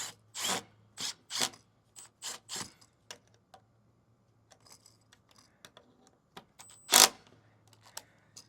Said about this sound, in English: let's just go ahead and put one screw in here